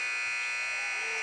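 A loud, sustained electronic buzzer at a boys varsity high school basketball game blares steadily without a break, filling the gym.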